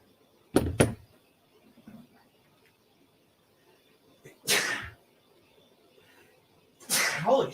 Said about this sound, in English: doing that thing with my eyebrows right before I had to sneeze made me sneeze even faster